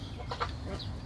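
Backyard chickens cluck close up as cilantro is offered to them beside ducks, with a few short, soft calls in a brief burst.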